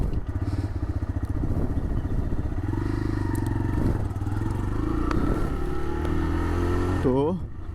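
A TVS Raider 125 motorcycle, three years old with 45,000 km, rides with a steady close engine drone and wind rush, shifting pitch slightly near the end as it slows.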